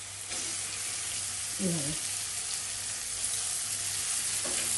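Fish sizzles steadily in hot oil in a home kitchen while making a Bengali fish curry, a bright continuous crackle with a brief utensil clink and a short spoken remark.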